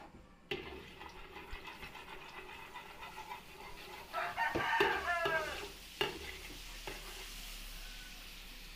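Margarine and cooking oil for mechado sizzle faintly in a pan, a soft steady crackle that rises into a brief louder burst of frying midway, with a rooster crowing in the background.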